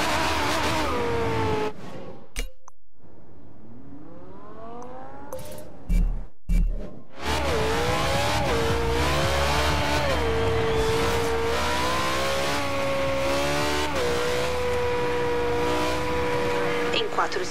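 A racing car's engine roars steadily in Forza Horizon 2, its tone climbing and settling under game music and voices, after a brief near-silent gap with sharp bursts.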